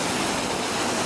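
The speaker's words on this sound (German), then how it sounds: "Hier gibt es so schöne Springbrunnen." Fountains in a Lisbon square pour and splash in a steady, dense hiss of falling water, close and even, with no voices.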